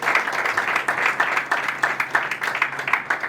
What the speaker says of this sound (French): On applaudit Gagné.